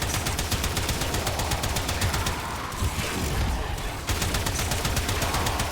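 Sustained rapid automatic gunfire in the video game Warframe, loud dense bursts of shots firing in a steady rhythm, with a brief lull near the middle before the shooting resumes.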